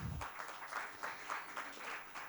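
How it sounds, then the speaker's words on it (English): Quiet applause from an audience at a knowledge session, a steady patter of many hands clapping, somewhat distant and soft throughout. "a huge round of applause for Dr. Sudhir Kumar Agarwal, please"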